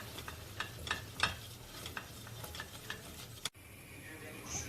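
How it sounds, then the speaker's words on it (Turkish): A spoon scrapes and stirs flour roasting in butter in a sizzling pan in irregular strokes, close by, before an abrupt cut to a quieter hiss. "Ve artık karıştırarak biraz kavuruyorum."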